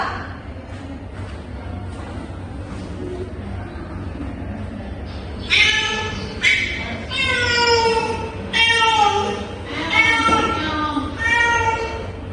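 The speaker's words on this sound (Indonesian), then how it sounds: "Kucing. Suara kucing bagaimana?" A recorded cat meows repeatedly, loud and near, in a run of drawn-out calls played in a classroom listening game for children, with faint low room noise beforehand.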